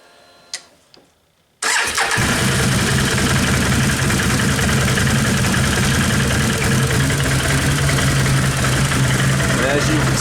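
A 2010 Can-Am Outlander 800 ATV engine with a faulty idle bypass starts after a short quiet spell of faint handling noise, then runs at a loud, steady idle close by for the rest of the time.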